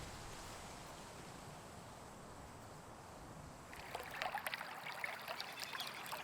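A stream flowing beside a field, a steady, fairly faint rushing and trickling wash that grows brighter and more splashy partway through, with no voices over it.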